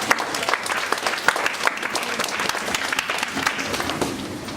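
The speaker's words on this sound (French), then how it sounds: "Est-ce que quelqu'un peut acclamer Jésus-Christ de Nazareth?" Church congregation applauding and cheering for Jesus Christ during a French-language worship service, a steady dense wash of clapping with scattered shouts, loud and sustained throughout.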